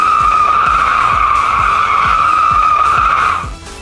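An electric Mercedes-Benz G580 EQ spins 360 degrees on the spot, its tires squealing in a loud, sustained high whine over rhythmic thumping, before the squeal fades out at the end.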